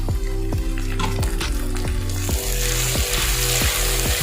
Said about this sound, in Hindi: इनको 10 सेकंड के लिए फ्राई कर लेना है